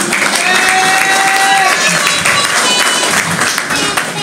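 An audience at a family dance performance applauds steadily through a toast to a grandmother, with a voice talking over the clapping and a brief held tone partway through.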